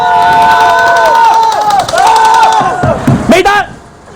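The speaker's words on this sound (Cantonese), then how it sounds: "歡呼！ 喂，起哄起哄！" A small crowd whoops and cheers on cue, loud overlapping rising and falling shouts and whistling voices close by, ending in a burst of excited yells before cutting off.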